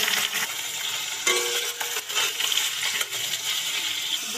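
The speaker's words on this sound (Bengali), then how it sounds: "সবজিগুলো আর আলুগুলো ঢেলে দেবো।" Beans, eggplant, radish and chopped potatoes tipped into a frying pan, setting off a steady, busy sizzle and scraping clatter that runs throughout with a few sharper rattles of pieces landing.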